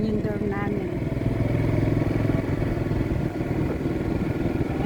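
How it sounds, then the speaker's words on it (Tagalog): Motorbikes belonging to Taiwanese and Chinese workers at a factory in Vietnam rumble nearby with a steady engine drone, and a voice talks over the noise. "Ito yung mga motor ng mga Taiwanese, Chinese, bike."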